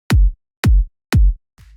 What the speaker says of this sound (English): I used another default FL Studio kick sample.